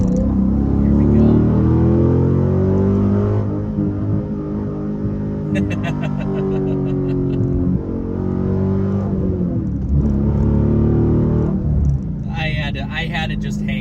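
A Dodge Challenger SRT8 with a manual gearbox is held at red line, its loud engine roaring in a sustained high rev that dips and climbs again, with someone talking over it in places.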